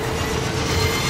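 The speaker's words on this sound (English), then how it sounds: "tram's here" A tram pulling in during Gears of War 4, a continuous loud rumble of rails and wheels with a faint steady whine, close and unbroken.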